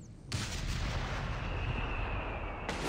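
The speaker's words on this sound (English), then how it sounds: "HE barrage on my mark. Make it loud." Artillery barrage in Company of Heroes 3, a loud, continuous rumbling roar of overlapping blasts that starts abruptly, holds steady and cuts off near the end.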